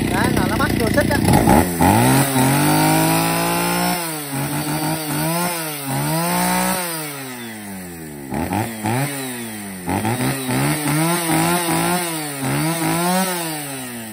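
A 61cc Japanese-market chainsaw engine runs loud and close, revving up and down repeatedly in rising and falling sweeps as the throttle is blipped, with someone talking over it.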